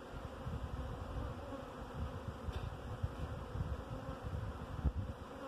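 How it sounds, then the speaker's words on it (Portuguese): Bees buzzing in someone's hair during a honey challenge make a continuous, close, low insect drone with slight wavering and no voices. "É abelha no cabelo"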